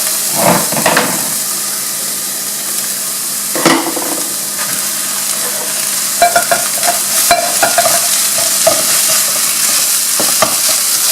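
Cooked rice tossed into a hot frying pan with seared tuna and spinach fixings sizzles and hisses steadily, broken by repeated scraping stirs and clacks of a utensil against the pan.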